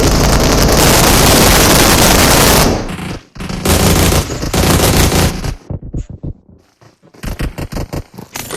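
Gunfire in the mobile battle-royale game PUBG Mobile: a dense, loud stretch of rapid automatic fire, followed by scattered sharp shots and short bursts with brief gaps between them.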